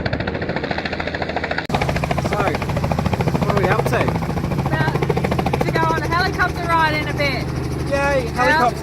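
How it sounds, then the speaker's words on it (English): A helicopter's chopping rotor thump and engine whine fill the scene at an airshow, with a sharp shift partway through and voices talking over it. "Yay, helicopter!"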